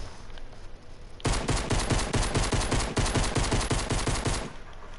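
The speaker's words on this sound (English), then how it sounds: "Are you shooting at someone?" Video game gunfire starts abruptly after a quiet moment as a rapid automatic burst, loud and close, with evenly spaced shots continuing steadily for several seconds before cutting off.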